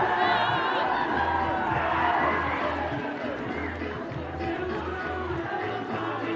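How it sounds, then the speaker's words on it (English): Crowd cheering at an Oztag match, spread across the field, with whoops and shouts rising and falling over steady crowd chatter throughout. "Plenty of cheering going on again over on field 2."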